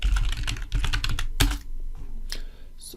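Fingers tapping a computer keyboard up close, a quick irregular run of crisp clicks with a few sharper strokes, alone and without speech.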